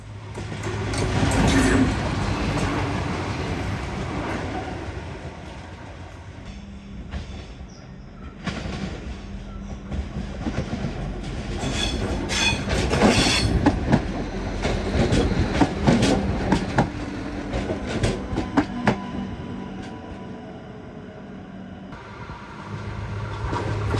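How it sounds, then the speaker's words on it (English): An Adelaide Class 3000 diesel-electric multiple unit from the 1990s rolls past on a busy non-electrified line, a loud rumbling engine drone with rhythmic wheel clatter over rail joints that swells and fades over the pass. "The diesel trains are Class 3000 and Class 3100 diesel-electric multiple units dating from the 1990s."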